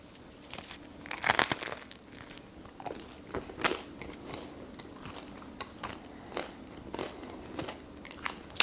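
Bites and chewing on a plain rustic einkorn loaf with no butter or oil, crisp crunches and crinkly crust breaks coming in bursts up close, with quieter mastication between, no talking.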